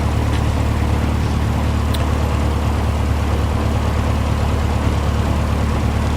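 A light aircraft engine idles on the ground in cold weather, producing a loud, steady, unbroken drone with low throbbing that stays constant throughout, heard close and with no talking.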